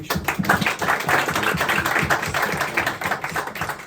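A church congregation claps together in a dense, continuous patter of many hands, moderately loud and steady for a few seconds with no talking over it.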